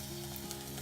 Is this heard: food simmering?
yes